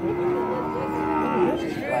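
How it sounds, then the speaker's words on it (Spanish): Cattle at a livestock fair in Joyabaj, Quiché, let out a long, deep moo close by, with faint crowd murmur underneath throughout. "comprando las vacas, toros, los ganados"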